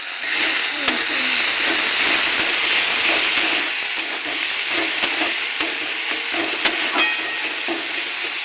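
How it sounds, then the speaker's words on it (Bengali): Spice paste of salt, turmeric, cumin and chili powder fries in oil for a Bengali eggplant dish, begun bahar, with a loud steady sizzle and repeated scraping stirs of a spatula in the pan, close up and without talk. "মশলা ভালো করে কষে তেল ছেড়ে এসছে"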